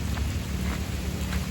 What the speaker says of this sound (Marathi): परत पाऊस आलाय